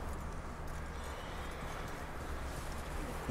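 Horse hooves in Red Dead Redemption 2 clop quickly and continuously, blending into a dense, rushing wash of outdoor game ambience at low volume.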